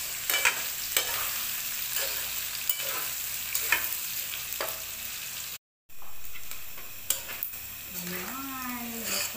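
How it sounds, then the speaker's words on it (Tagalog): Sliced embutido stirred into pancit bihon in a sizzling pan, a soft frying hiss under repeated scraping stir strokes, with a short gap midway and a brief voice near the end. "Lagyan na natin guys yung ating embutido. Haluin natin."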